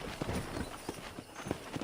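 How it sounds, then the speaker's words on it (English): A horse's hooves clip-clop in a steady walking rhythm in the video game Red Dead Redemption, set against constant game background noise. "I picked out a fine horse for you."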